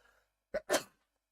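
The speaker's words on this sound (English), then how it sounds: "I just can't muffle the sneeze" A single sneeze close to the microphone: a sharp intake, then a loud, explosive burst, followed by quiet.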